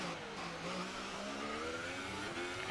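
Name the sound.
race car driving into pit lane, from F1 video game (Haas)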